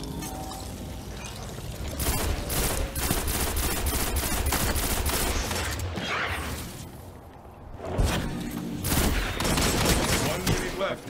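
A fusion rifle fires in a Destiny 2 Trials of Osiris PvP match: loud rapid volleys of gunfire with whooshes and booms run through most of the stretch, with a brief lull near the middle, and players talk over it.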